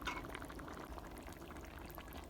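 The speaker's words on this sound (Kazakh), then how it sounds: "Қазір енді осындай ыстық кезінде банкаларымызға құйып аламыз." Hot eggplant salad with vinegar essence poured into jars in a home kitchen, a faint, steady liquid stream running without a break.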